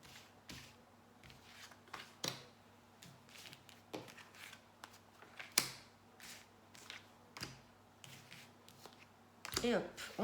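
Oracle cards shuffled for a 13-card spread, a series of soft, sharp riffles and taps at irregular intervals against a quiet room, with someone speaking in French between them.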